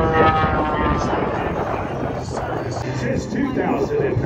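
An X-330LX aerobatic airplane flies at an air show, heard as a steady loud engine roar with heavy wind noise, while an announcer talks over it on a public address system.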